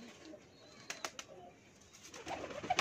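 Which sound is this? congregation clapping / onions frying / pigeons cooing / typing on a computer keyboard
pigeons cooing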